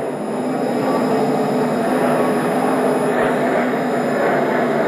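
An airliner takes off from Newark airport with a loud, sustained engine roar that holds broad and steady throughout, close and powerful, with no talk over it.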